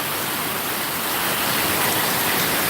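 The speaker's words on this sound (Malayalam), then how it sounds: "ഹൈദരാബാദ് റോഡിലാണ് വെള്ളം ശക്തമായിട്ടുള്ള മഴ" Heavy rain pouring in Hyderabad with water flowing along the road, heard as a loud, dense, unbroken roar of falling and rushing water with no voices.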